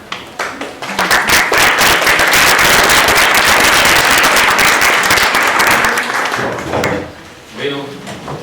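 A conference audience breaks into applause at the start of a talk on arbitrary detention: a few sharp early claps swell into loud, dense clapping, then taper off with scattered claps near the end.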